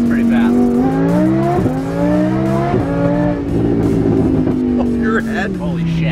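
A Lamborghini accelerating hard, its engine note climbing and dropping back at each gear shift, loud and close from inside the car while people talk excitedly over it.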